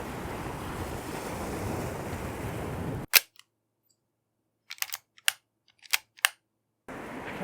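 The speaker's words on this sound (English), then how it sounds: "I really like these little like outcroppings with the water splashing all over them" Steady rushing surf and wind buffeting the microphone at a seafront, with waves splashing over small rock outcroppings. The roar cuts out abruptly and several sharp camera-like clicks sound in the quiet before the surf noise returns.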